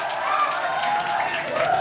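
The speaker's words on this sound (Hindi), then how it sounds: "जोरदार ताली बजाइए एक बार सर को लिए।" Students at an event give a short burst of applause, a dense wash of clapping from a crowd that carries on steadily without a break.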